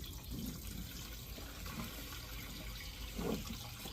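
Gasoline pours quickly from a TuffJug gas jug in a steady, continuous rushing flow, fairly faint and close, with a few brief gurgling surges along the way.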